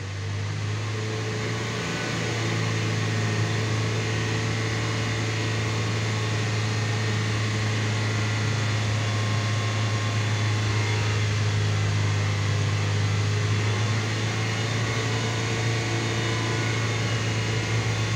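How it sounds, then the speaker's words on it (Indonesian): A car engine held at about 3000 rpm during an oil flush, a steady loud droning hum with a low, even tone that barely changes across the whole stretch. "Ini kita coba gas dulu sampai 3000 rpm"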